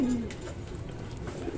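A racing pigeon coos softly and close by, a low brief throaty call over steady background noise.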